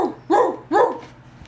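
Two sharp dog barks in quick succession, close and loud, followed by a faint softer yip trailing off.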